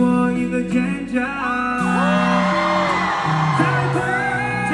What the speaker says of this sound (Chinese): 所有人给我一个尖叫